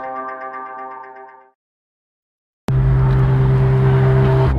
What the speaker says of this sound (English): We adjusted it to have a mild startup and dynamic accelerating engine sound.